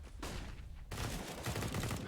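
Rapid gunfire in CS:GO during a pro esports match at the Swisscom Hero League, with bursts of rifle shots crackling fairly close and dense across the whole short stretch.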